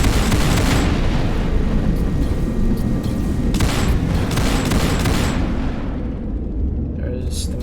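Missiles launch in the video game Artificial Extinction 2 as a dense, continuous barrage of booming blasts and rumbling fire, with several sharp bursts standing out before the noise thins toward the end; a voice talks faintly underneath.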